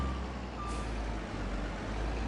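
A logging truck in a PS5 logging game backs up, its reversing alarm beeping briefly over a steady, loud diesel rumble.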